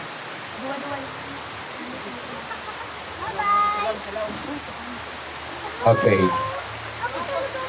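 Steady rain falls outside a church gathering, a constant broadband hiss filling the background while someone speaks over it.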